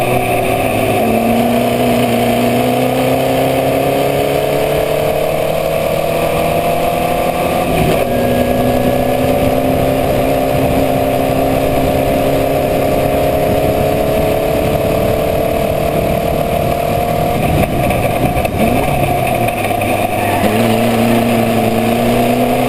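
A Formula Vee race car engine pushed hard at racing speed during an NSW Formula Vee race, a loud continuous onboard drone with rising and falling pitch as it shifts, brief dips near gear changes, no talk.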